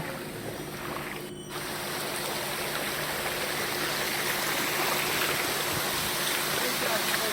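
A forest stream (jhiri) on the Jhorjhori trail in Sitakunda, running unusually full, rushes and gurgles in a steady, close wash of water that holds even throughout.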